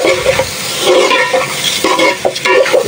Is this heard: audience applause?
no